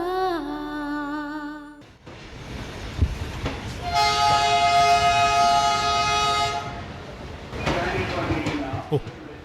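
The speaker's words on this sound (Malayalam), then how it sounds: "ട്രെയിനിന്റെ ചൂളം വിളി ഉയരും" A train blows a long, tonal whistle while its carriages rumble and clatter past at close range, the roar fading and swelling again near the end.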